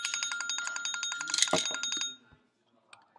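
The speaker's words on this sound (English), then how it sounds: "A bell is ringing." A bright metallic bell rings in rapid, steady repeated strikes for about two seconds, close and clear, then stops, leaving near silence with a couple of faint taps.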